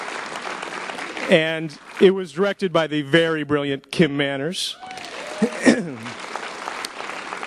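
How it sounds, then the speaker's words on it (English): Someone speaks to a festival audience at a television panel event, and applause from the crowd swells beneath and after his words. "So round of applause"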